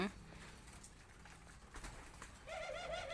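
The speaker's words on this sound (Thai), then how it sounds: "ท่านไหนสนใจอยากได้นกที่ขันแล้ว" A spotted dove's soft, rolling coo starts near the end of a quiet stretch of faint background noise. The coo is close and clear, rising and falling in a repeated phrase.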